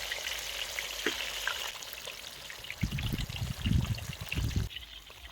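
Halwa fish frying in hot oil, a steady soft sizzle and crackle at low volume, with a few louder bubbling spurts toward the end.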